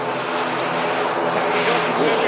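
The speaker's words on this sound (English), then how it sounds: "EasyJet rotates." An EasyJet airliner rotating on takeoff, its engines giving a loud, steady roar close by that builds slightly toward the end.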